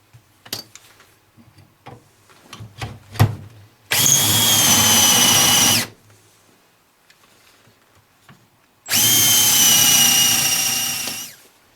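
A power drill bores half-inch dowel holes into a wooden cabinet frame in two loud, steady bursts of about two seconds each, separated by quiet pauses and preceded by a few light clicks and taps.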